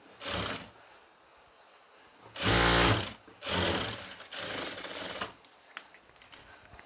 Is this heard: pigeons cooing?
no